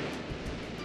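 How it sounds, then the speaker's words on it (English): Ocean surf washes in steadily in a Hawaii surfing video game, a soft, continuous broadband rush with no distinct breaks, heard alone at low level. "I feel more at peace riding these waves than anything else."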